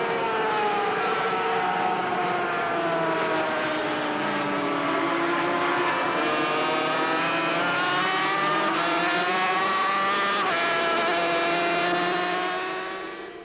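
500cc Grand Prix motorcycles racing past, a loud high-revving engine note rising and falling in pitch as the bikes shift gears, continuous with no talk.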